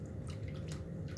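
Homemade sesame seed milk trickles and drips through a strainer, a short burst of soft liquid gurgling and dripping close by.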